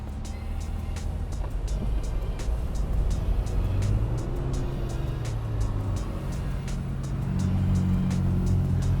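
Ferrari 458 Spider V8 driving in second gear in automatic mode, a steady low engine drone with road and wind noise heard from inside the car, rising slightly in pitch, and no talk.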